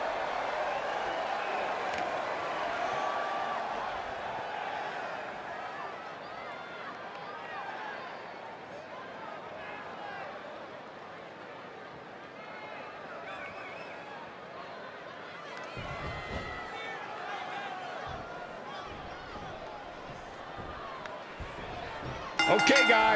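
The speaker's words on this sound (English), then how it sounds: "I think these women may be caught off guard a bit by this stellar crowd reaction they're receiving here" A virtual arena crowd in the WWE 2K20 wrestling game roars and cheers steadily throughout a women's one-on-one match entrance, a dense, sustained wash of noise with a sharp burst near the end.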